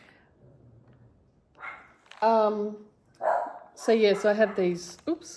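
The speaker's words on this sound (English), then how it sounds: "Sorry for the barking." Dogs barking indoors, several sharp, close barks in quick bursts, with someone speaking between and over them.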